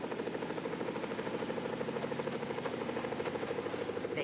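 A helicopter hovers nearby with a rapid, even rotor chop and buzzing engine drone, faint but steady throughout.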